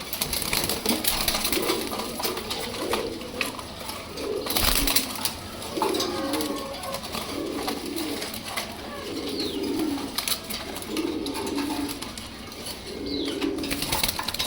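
Pigeons coo in repeated low rolling phrases at a steady rhythm, fairly close, over background hiss and a few wing flutters, with no talking.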